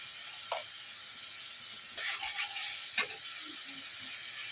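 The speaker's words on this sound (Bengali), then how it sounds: "মাংসকেও ভালো করে একটু ভেজে নেব" Pieces of catla fish frying in a pan for doi katla, a steady sizzle broken by a few sharp clinks and scrapes as the pieces are stirred, with no talk.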